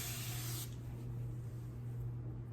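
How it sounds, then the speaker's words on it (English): Water sprayed from a spray bottle onto hair: a short, loud broadband hiss in the first half-second, then quiet room noise with a steady low hum. "So, I sprayed my hair."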